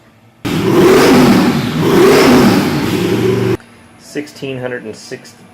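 A high-horsepower twin-turbo intercooled Nelson Racing engine with crank-trigger ignition roars on a dyno pull, loud and sustained with rising and falling tone, then cuts off abruptly, followed by someone talking over quiet background.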